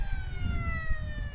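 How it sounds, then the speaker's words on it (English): A sustained electronic siren sounds over open-field crowd and ground noise, marking the end of the third quarter at a Queensland Australian rules football match, Mt Gravatt versus Labrador. "as the third quarter siren sounds"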